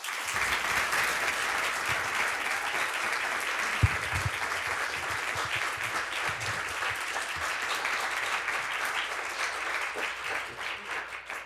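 Sustained warm applause from an audience welcoming a guest speaker at a speaker series event, steady dense clapping filling the room for about eleven seconds and tapering slightly at the end.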